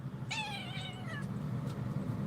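A cat lets out one clear, drawn-out meow with a falling pitch, close by and fairly soft, over a low background hum.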